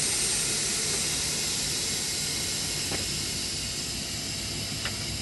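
Air brakes on a truck being released during a Texas CDL pre-trip inspection, giving a loud, steady hiss of escaping air that runs unbroken for several seconds with no talk.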